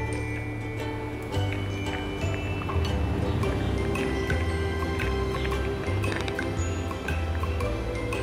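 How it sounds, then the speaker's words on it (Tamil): Boiled vermicelli drained through a strainer, a steady stream of water splashing and dripping into a sink with occasional metallic clinks, close and fairly loud throughout. "இப்போ நமக்கு 1/4 பங்கா வெந்து சேமியா இதை நம்ம வடிகட்டி எடுத்துருவோமா?"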